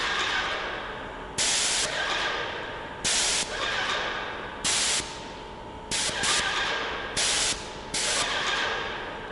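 A quiet electric handheld paint sprayer sprays in about seven short hissing bursts, each lasting roughly half a second to a second, separated by pauses filled with a low steady hum.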